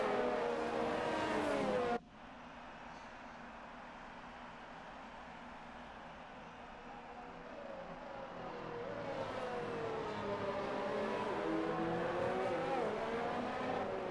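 Race cars in a sim racing game roar down the opening straight at Russia's circuit, a dense engine drone that shifts abruptly after two seconds and then swells as cars accelerate together, with no voices.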